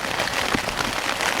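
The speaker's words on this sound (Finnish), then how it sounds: "sade yllätti suuret metsästäjät" Rain patters steadily on a tarp outdoors in a forest or bog, a dense, even hiss of drops with a few louder taps, close and continuous without talk.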